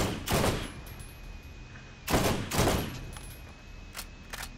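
Gunfire aimed at a turret in Borderlands, a few separate sharp shots spaced out over several seconds, moderately loud against a faint steady background hum.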